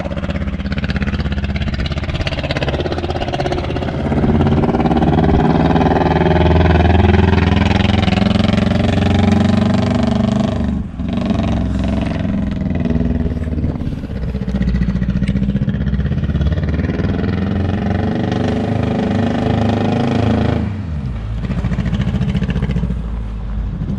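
Barn-find BMW engine running steadily under its own power, a loud continuous mechanical drone with rough idle-like texture that holds for the full duration, briefly dipping twice, with no talk over it.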